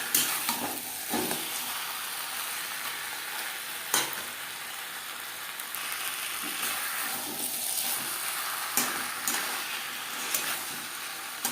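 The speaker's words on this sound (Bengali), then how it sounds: "মশলা ও চালের সাথে মাছের মাথা বেশ ভালো করে মিক্স করে দেব।" Catla fish head being stirred with spices and Gobindobhog rice in a pan, giving a soft continuous sizzle with occasional scraping strokes of the spoon at intervals.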